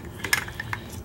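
A motorcycle ignition lock being worked loose from a bench vise, giving a few light metallic clinks and taps, close and fairly quiet, with no talking.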